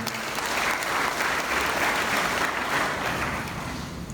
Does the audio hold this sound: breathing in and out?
no